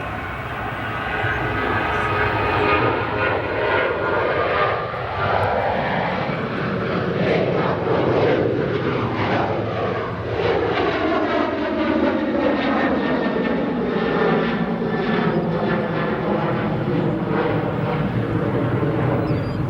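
Boeing 777-200 lining up on a runway at Chicago O'Hare, a steady loud roar of jet engines with shifting whine tones rising and falling throughout, heard alone.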